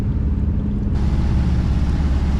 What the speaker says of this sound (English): Hopefully you can hear me over the engine.